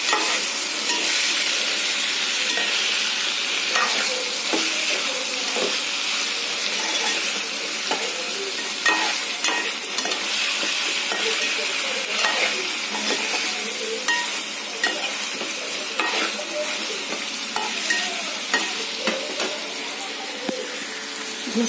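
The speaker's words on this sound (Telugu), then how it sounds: "జస్ట్ ఒక వన్ మినిట్ అలా ఫ్రై అవ్వనివ్వండి." Chicken sizzles and fries in a pan in a home kitchen, a steady close hiss with scattered crackles and the odd stirring scrape, going on throughout with no talk over it.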